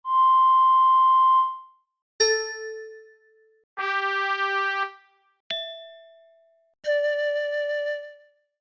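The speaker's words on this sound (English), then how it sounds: "As you play these instruments in order, the whistle, the bell, the horn, the chime bar, and the flute" Five instrument notes ring out one after another in a video game — whistle, bell, horn, chime bar, then flute — each a clear, loud, sustained tone separated by short silences.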